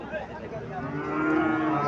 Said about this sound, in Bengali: এখানে একটা শাহিওয়াল যাতে ষাঁড় বাছুর দেখা যাইতেছে।